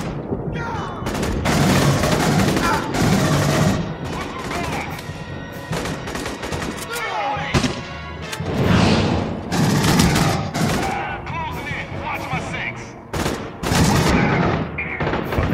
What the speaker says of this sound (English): I forgot I changed the secondary fire on this to a shotgun.